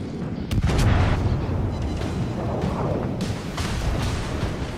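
Warship secondary guns firing in the naval video game World of Warships: Legends, a rumbling wash of repeated booms and distant gunfire, loud and steady with sharper reports scattered through.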